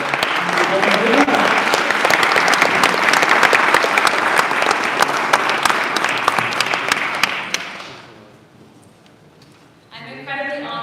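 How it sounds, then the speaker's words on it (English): Large audience applauding loudly and steadily at a talk event, dense clapping for about eight seconds that fades out, followed by a voice speaking alone. "If so, a big round of applause"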